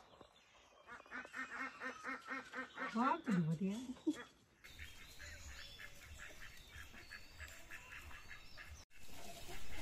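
Ducks quack and honk in a busy chorus mixed with other fowl at feeding time, close and lively, while a person talks over the birds.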